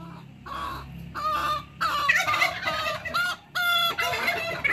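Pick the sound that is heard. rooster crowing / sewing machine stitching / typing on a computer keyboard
rooster crowing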